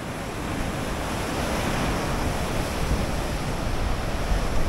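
Ocean surf breaking on a Busan coastal shore, a continuous roaring wash of waves with wind buffeting the microphone, steady and fairly loud, no voices.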